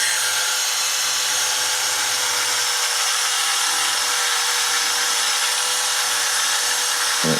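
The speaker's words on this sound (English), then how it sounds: "brass brush on the rotary tool, which tends to clean these up quite nicely" A rotary tool fitted with a brass brush cleaning the wheels and axles of a Hornby Dublo model train wagon, giving a loud, continuous high-pitched whirring whine with faint scratching of bristles on metal.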